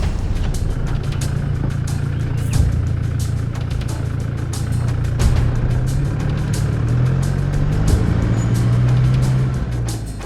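A car drives through the Kgalagadi on a long desert road toward Nossob, its engine and tyre rumble holding loud and steady the whole time, with a low droning hum and no voices.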